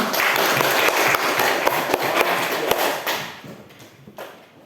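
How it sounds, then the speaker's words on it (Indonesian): A classroom of students claps for a student group, brisk and fairly loud at first with a few sharper slaps, then thinning out and fading over the last second or two. "Tepuk tangan untuk kelompok 4."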